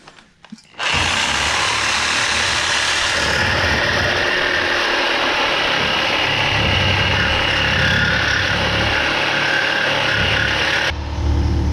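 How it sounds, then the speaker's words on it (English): A Sawzall reciprocating saw cuts through a 2015+ S550 Mustang subframe bushing in one loud, continuous, rattling run of about ten seconds, close by and without talking. "I'm gonna just use the Sawzall for this time."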